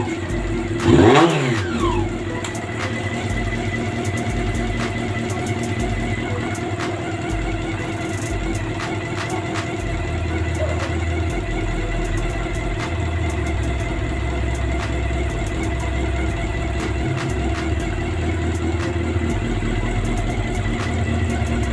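A Honda CB400 motorcycle engine idles steadily at close range, its low rumble carrying a fast, light ticking from a faulty drive chain, with a brief rev near the start.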